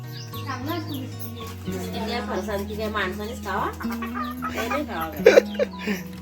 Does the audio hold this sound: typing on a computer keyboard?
no